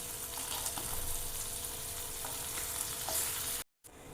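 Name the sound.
Mandeli fish frying in a pan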